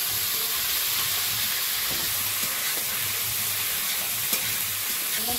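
Fish sizzles and crackles in hot oil in a home kitchen, a steady close hiss with small pops and the occasional scrape of stirring, and no one speaking.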